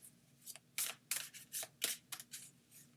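Rapid riffling bursts of tarot cards being shuffled, several quick crisp flurries close by with brief pauses between them, no voices.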